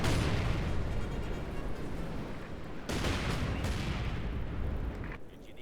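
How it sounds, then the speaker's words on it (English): Company of Heroes 2 artillery barrage: dense, continuous rumbling blasts and booming impacts, loud and layered, with a sharper burst of explosions midway before fading slightly. "Artillery barrage engaging the MG42."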